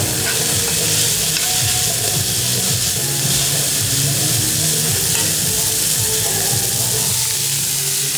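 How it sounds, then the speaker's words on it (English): An egg fries in a pan with a lid on, water added to steam the top, giving a loud, continuous sizzle and crackle with steady hiss throughout. "You add a little bit of water and put the lid, you can cook the top of your egg as well."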